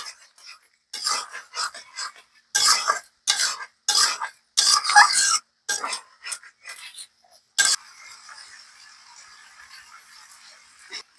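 Ghugni cooking: lentils and potatoes being stirred with ginger, cumin and coriander paste, giving bursts of scraping and clattering strokes in the pot, then a steady low sizzle that carries on alone toward the end.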